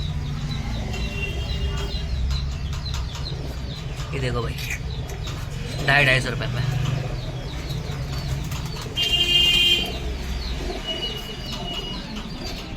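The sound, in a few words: Madrasi pigeons cooing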